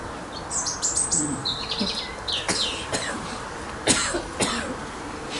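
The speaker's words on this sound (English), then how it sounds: "bird was so loud" A loud bird sings close by in short bright chirps and trills, scattered over a few seconds above a low, steady background hiss.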